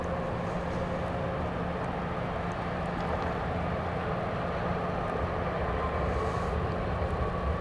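Steady broadband roar of a Boeing 737 MAX 8 jet at Dallas Love Field at night, a constant engine rumble with a faint whine, fairly distant and unchanging throughout, no talk.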